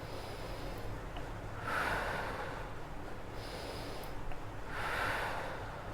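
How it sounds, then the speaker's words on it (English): Slow, steady normal breathing, two soft broad inhalation-exhalation swells spaced a few seconds apart, close and gentle over a low steady background hum, with no talking. "take 4 to 5 normal breaths"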